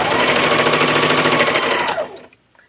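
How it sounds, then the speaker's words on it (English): A sewing machine runs in a fast, steady buzz as it stitches across a folded fabric edge on a reusable gift bag, then stops abruptly near the end, leaving near silence. "then just stitch across so that we don't have raw edges poking out on the sides"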